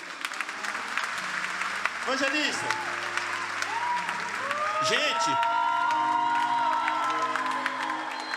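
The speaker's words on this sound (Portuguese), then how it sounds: "Vamos receber a serva do Senhor com uma linda salva de palmas" A church congregation applauds and cheers to welcome a woman evangelist. Loud clapping and whoops run throughout, with someone speaking over the crowd into a microphone.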